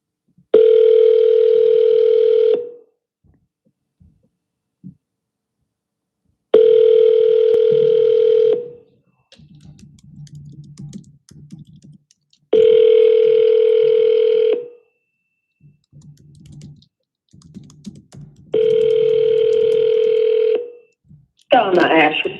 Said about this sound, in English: Let's keep calling triple dial everybody.